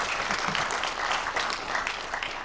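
Audience applause at a World Red Cross and Red Crescent Day commemoration ceremony in Uganda, a steady, dense wash of clapping from a moderately distant crowd that holds at an even level throughout.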